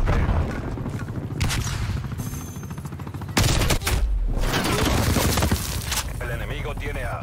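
Call of Duty Cold War match on PS4 with a thrown grenade and steady automatic gunfire that fill the scene, a sharp loud burst near the middle, then continued shooting while a player talks over the action.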